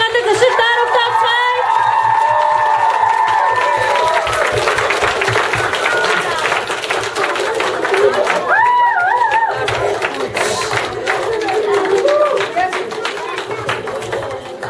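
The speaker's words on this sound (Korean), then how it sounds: "자, 들어오시면 우리 더 힘찬 박수로 보냅시다" Church audience in Mongolia applauds and cheers loudly for a visiting mission performance team, dense sustained clapping with whoops and voices mixed in, continuous throughout.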